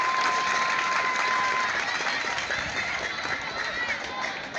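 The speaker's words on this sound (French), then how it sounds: "Est-ce que ça mérite des applaudissements," Audience applause at a school open day at a technical high school, steady dense clapping filling the room throughout, with some voices mixed in.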